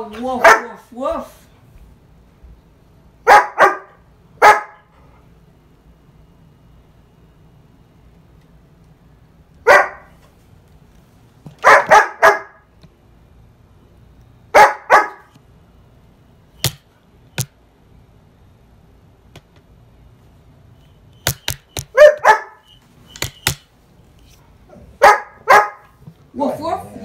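A pet dog barks in short separate bursts of two or three, loud and close, with long quiet gaps between them, while a person talks to it and imitates the barking.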